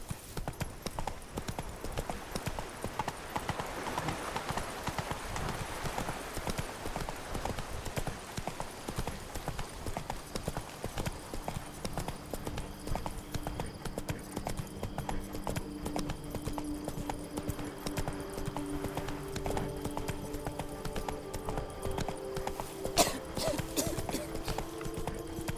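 Roach the horse gallops through The Witcher 3: Blood and Wine, a steady rapid clip-clop of hooves running the whole way, close and even, with a brief whinny and music or ambience underneath.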